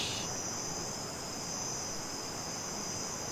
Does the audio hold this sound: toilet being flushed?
no